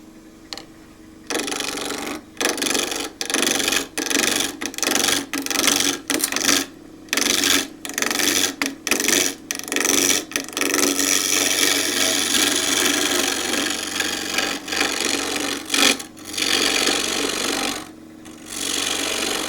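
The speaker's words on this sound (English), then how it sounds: "I'm going to do that with a 3/4 inch continental gouge" A 3/4 inch continental gouge cuts wood on a lathe while shaping a carver's mallet. It makes a loud, steady rasping and shearing sound, broken by repeated short pauses as the tool lifts off and goes back in, and no one talks.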